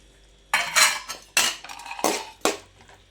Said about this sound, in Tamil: சேர்த்து வதக்கிட்டு நம்ம பொரிச்சு வச்ச காலிஃப்ளவரை சேர்த்துக்கலாம்.